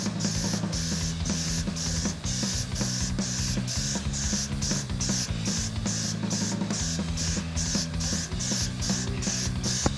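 An airbrush sprays paint onto a spoon in a steady, close hiss with rapid regular pulsing, continuous for the whole stretch with no voices.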